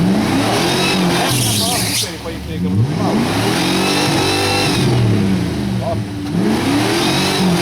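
Jeep Cherokee engine revving and pulling through a muddy off-road puddle, a mid-pitched engine note rising and falling in repeated surges, loud and close, with people talking over it.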